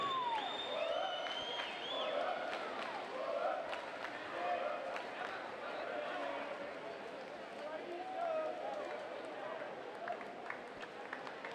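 A swim meet crowd at the 2013 ARENA Grand Prix in Minneapolis applauds and cheers the championship relay team, a moderate, continuous patter of clapping with whistles and scattered shouts, heard at a distance in a large arena.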